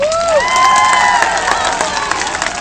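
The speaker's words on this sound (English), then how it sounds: "Give her a round of applause." An elementary school audience at a Red Ribbon assembly breaks into applause, a sustained wash of clapping blended with cheers and children's shouting voices rising over it.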